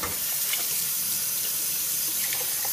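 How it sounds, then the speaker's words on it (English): Tap water runs steadily into a Chinese food bowl as it is rinsed in a kitchen sink, a continuous close splashing hiss with small shifts as the bowl moves under the stream. "And then I rinse the bowl out."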